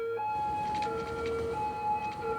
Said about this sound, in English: the ambulances.